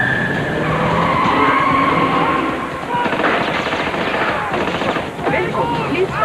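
A film car chase through a car park, with a loud, sustained burst of rapid gunfire mixed with squealing tyre skids and engine roar, close and intense, with some voices underneath.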